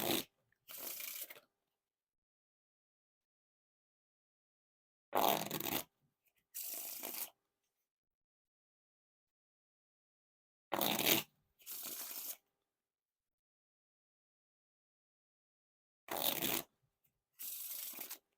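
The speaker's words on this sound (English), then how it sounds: "Now time for the riffle shuffle or bridge shuffle." Jerry's Nugget Kings Wild playing cards are riffle shuffled and bridged in four rounds, each a quick buzzing riffle burst followed by a softer rustling cascade, crisp and close against silence.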